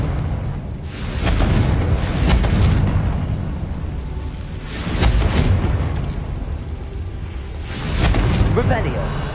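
Confringo fire-blast spells from Hogwarts Legacy go off in three loud bursts a few seconds apart, each a broadband whoosh and boom over a low rumbling game soundscape.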